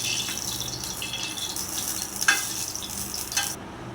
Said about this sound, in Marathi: गरम तव्यावर तेल घालू